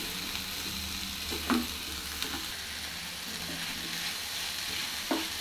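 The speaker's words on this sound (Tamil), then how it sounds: "வேக வச்சு வச்சுருந்தோம் பார்த்தீங்களா காய்கறி, அதை வந்து போட்டு நல்லா ஃப்ரை பண்ணிக்கணும்." Vegetables for a veg Maggie dish sizzle steadily in a hot pan, with occasional soft scrapes and clinks of stirring over the continuous frying hiss.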